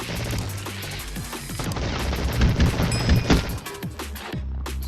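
Gunfire in the Roblox game Fight Gun crackles in rapid bursts and booms at moderate volume amid busy game noise, with no clear talk over it.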